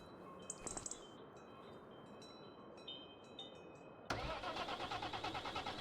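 A farm tractor engine starts up partway through after quiet rustling and faint chirps, then idles with a loud, close, steady chugging rumble.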